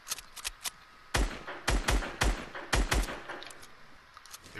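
Video game gunfire in rapid bursts: a few light shots, then a run of loud, sharp reports in quick clusters, close and punchy, with short gaps between volleys and no talk over it.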